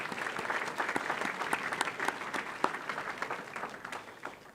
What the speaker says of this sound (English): just a round of applause for the Corruption and Crime Commission